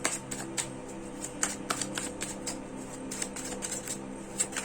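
Tarot cards being shuffled by hand, a close, steady flurry of soft papery riffles and clicks recurring in quick irregular bursts for several seconds, with no voices.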